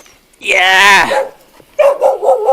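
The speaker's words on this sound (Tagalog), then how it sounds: "yung may asong tahol ng tahol" A dog barks up close, a long drawn-out bark followed by a pause and a few quicker, shorter barks.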